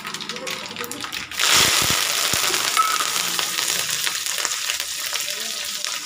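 Curry leaves drop into hot oil and burst into a loud crackling sizzle, following a quieter stretch of stirring and kitchen noise, then holding at a steady fry.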